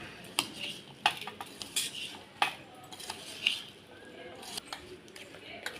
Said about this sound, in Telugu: ఈ పౌడర్ వేసి కలిపాక ఈ ముక్కలు వేసుకొని కలుపుకోవాలండి.